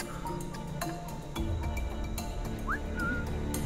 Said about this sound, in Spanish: Espero no llamar a ninguno por detrás con el silbido